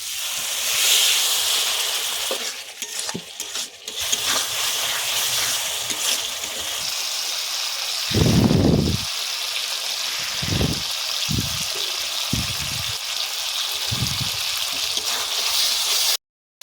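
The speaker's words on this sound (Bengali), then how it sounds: "একটু মাংস সেদ্ধ জলটা দেব।" Meat-boiled water is poured into a pan of beef curry cooking with tomato, a loud steady sizzling hiss broken by several short, deeper splashing bursts near the end.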